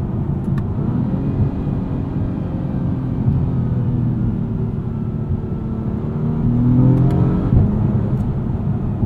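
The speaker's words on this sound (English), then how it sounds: "There's definitely some artificial engine sounds piped into the cabin in Sport and Sport Plus mode" Steady engine drone inside a 2024 Acura TLX Type S cabin, partly artificial engine sound piped in during Sport mode, low and rumbling, swelling into a louder revving surge near the end before settling back.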